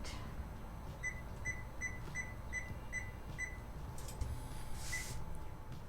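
An induction stovetop in a home kitchen gives a row of about six short, evenly spaced electronic beeps as it switches on, then one more beep a little later, over a soft background hum.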